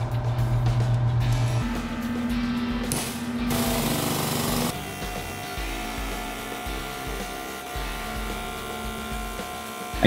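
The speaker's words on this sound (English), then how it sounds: "I tighten the seal on the ram and continue bending the tube the rest of the way." Hydraulic tube bender ram bending a steel tube for a van spare tire carrier, with a loud rattling, jackhammer-like pumping drone that shifts pitch partway and keeps running steadily close by.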